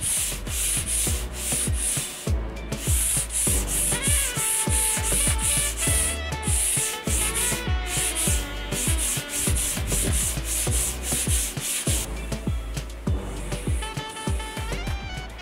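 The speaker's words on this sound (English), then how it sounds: "I'm just giving it a light sand using 600 grit sandpaper to smooth it all out" Light hand sanding of a painted chest of drawers with 600 grit sandpaper, a steady close rubbing scrape in continuous back-and-forth strokes with no talk.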